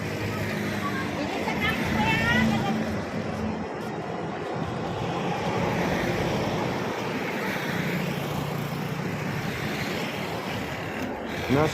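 Sea waves wash near a seaside house in a coastal neighborhood, making a continuous, fairly loud rushing hiss that swells gently throughout.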